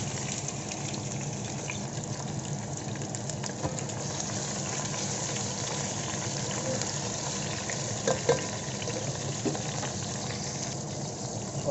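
Chicken goes into a pot of golden fried onions for Sindhi biryani, giving a steady, even frying sizzle with no talking.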